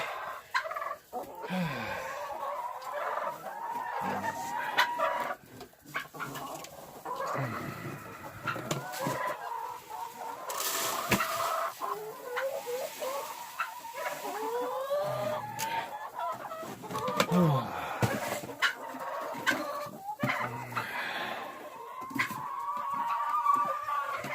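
A flock of turkeys gobbling and clucking almost nonstop, overlapping calls rising and falling at close range against an outdoor backdrop.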